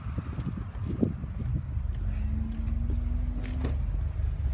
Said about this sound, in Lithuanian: Kaip matot, čia Audriaus Pivoro automobilis su mechaninė dėžė.